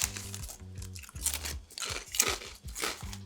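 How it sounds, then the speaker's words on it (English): Pepper jack flavoured potato chips crunched close up, with a steady series of crisp, brittle bites and chewing crackles over about three seconds. "Good crunch."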